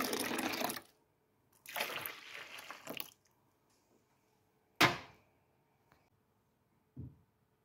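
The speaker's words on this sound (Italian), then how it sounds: "utilizzo l'acqua bollente che ho tirato fuori dai vasetti per utilizzare appunto come lavaggio dei piatti" Boiling-hot water saved from canning jars is reused to wash dishes with soap, heard as two bursts of running, splashing water followed by quieter gaps with a sharp clink and a soft knock near the end.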